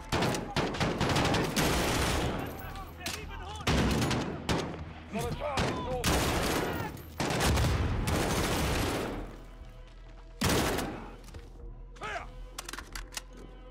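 Gunfire rattles through a Call of Duty: Modern Warfare (2019) embassy mission, with rapid bursts and single sharp shots, some loud and close, others quieter, while a voice talks over parts of it.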